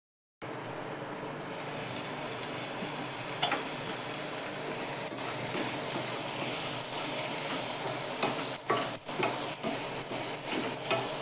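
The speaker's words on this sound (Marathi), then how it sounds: "त्यातच फक्त मधून मधून जरा हलवत राहायचं" Sweet potato cooking in melting jaggery gets stirred now and then, a steady low simmering hiss with occasional scraping taps of the spoon against the pan.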